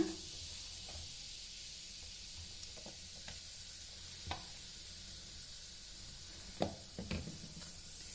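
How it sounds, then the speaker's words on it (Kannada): Chili powder sizzles in hot oil for an Indian gooseberry pickle, a steady soft frying hiss with a few faint stirring taps, and no talk. "ಇದು ಬಿಸಿ ಎಣ್ಣೆಗೆ ಹಾಕ್ಕೊಂಡಿದ್ದೀನಿ ಚಿಲ್ಲಿ ಪೌಡ್ರು"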